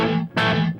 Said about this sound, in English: I'm going to turn up the level of the reverb so you can really hear it